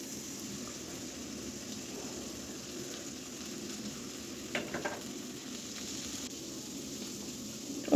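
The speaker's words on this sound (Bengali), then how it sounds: "তেলটা গরম হয়ে গেলে হলুদ আর লবণ মাখানো মাছটা দিয়ে দিচ্ছি।" Turmeric- and salt-coated fish frying in hot oil in a home kitchen, giving a steady, fairly faint sizzle throughout with a few brief louder crackles near the end.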